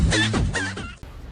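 Chickens cluck nearby in a short run of a few throaty calls, followed by a brief quieter moment.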